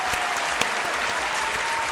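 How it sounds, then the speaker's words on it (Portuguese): Steady audience applause in a classroom-style setting, dense hand clapping sustained evenly throughout with no talk over it. "merece aplausos, merece aplausos"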